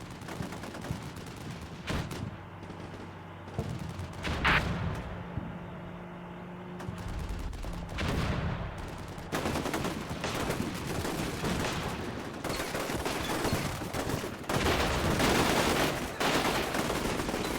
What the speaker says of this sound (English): we are moving them across with the machine guns, providing cover fire